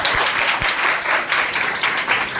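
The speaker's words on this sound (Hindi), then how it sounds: "ऐसा तो ताली बजाओ ज़रा जूही के लिए।" An audience claps for Juhi in a short, steady burst of applause that fills the whole moment, with a couple of low thumps near the start and no talking over it.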